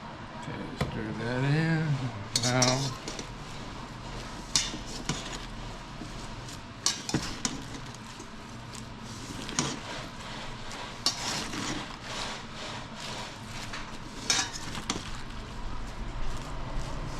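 Salad tossed with dressing in a bowl gives soft scraping and clinking of utensils against the dish, with a few sharper knocks, quiet and close under intermittent talk.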